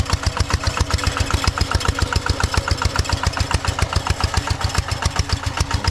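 A steady, chugging diesel tractor engine plows a wet rice field close by with a fast, regular rhythmic thump, loud and continuous throughout, no voices.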